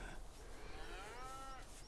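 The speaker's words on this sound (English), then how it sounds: "Got our cows." A cow on a farm gives a single drawn-out moo, faint and somewhat distant, with no talking.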